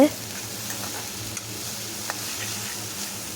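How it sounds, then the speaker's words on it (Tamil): A steady, soft sizzle of onions frying in a pan, with a faint crackle and a few small pops over the low hiss. "இப்போ வெங்காயம் ஒரு ஒரு நிமிஷத்துக்கு லைட்டாக ஃப்ரை ஆச்சுன்னா போதும்"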